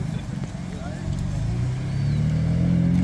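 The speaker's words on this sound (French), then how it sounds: "Petit convoi de BMW." A small convoy of BMW cars rolls past at a car meet, engines rising into a growing low rumble and a steady drone that builds toward the end.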